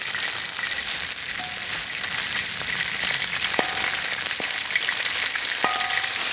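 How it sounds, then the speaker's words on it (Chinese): Pieces of grass carp pan-fry in hot oil for a spicy hot-pot fish dish, sending up a steady close sizzle and crackle, broken by a few light metallic clinks. "我们这个要煎一会儿，不能急，你不要乱翻动，翻动会碎。"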